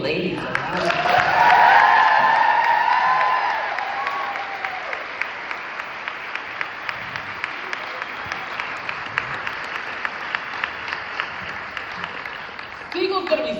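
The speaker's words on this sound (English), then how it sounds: "Give these beautiful ladies a round of applause." Audience applauding two ladies receiving awards at an indoor event: loud sustained clapping with cheers and whoops, swelling early then settling into a steady patter of claps before fading.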